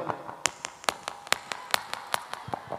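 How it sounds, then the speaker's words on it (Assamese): A few people at a live comedy show during a spring Bihu festival clap in scattered, uneven claps, sharp and fairly close, without forming a full ovation. "এনেকে হাত চাপৰি বজাব লাগিব"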